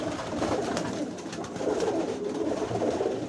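Pigeons coo softly at their loft, low repeated calls close by over a faint background with flutters and rustling.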